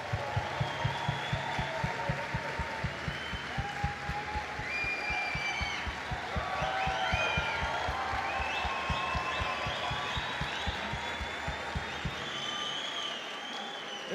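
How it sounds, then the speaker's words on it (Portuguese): A church conference crowd gives a long round of applause for its leadership team, dense clapping with a rhythmic beat underneath, occasional whoops and scattered voices, continuing steadily before cutting off near the end. "eu quero dar uma salva de palmas para essa liderança"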